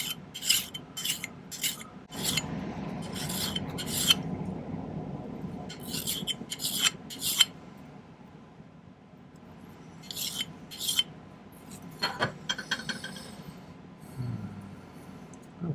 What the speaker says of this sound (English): I'm going to just take my file, clean this up a little bit.